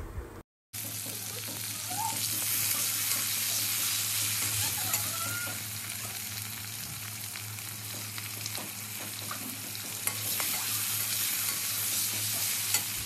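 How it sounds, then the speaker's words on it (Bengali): Tomatoes with salt fry in a hot pan, giving a dense, steady, loud sizzle with occasional stirring scrapes throughout. "লবণ দিয়ে টমেটোটা ভালো করে ভেজে নিলাম"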